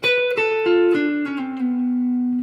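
Bell-like guitar harmonics in a solo ring out, a quick series of clear chiming notes stepping downward, the last one sustaining and slowly fading.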